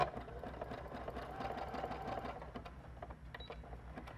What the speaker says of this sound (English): and go ahead and sew.